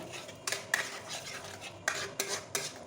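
Chhena stirred in a pan for mango sandesh: a spoon scrapes and knocks against the metal in a few short, close strokes, with no voices.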